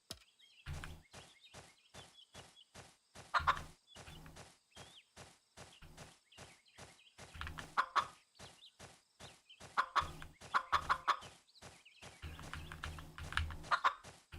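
Clucking, gobbling fowl calls in the Sunflower Land chicken rescue mini game come in quick bursts over a pulsing, rhythmic game track, moderately loud with no voices.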